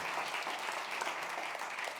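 Church audience applause, a dense patter of many hands clapping steadily, moderately distant, for about two seconds.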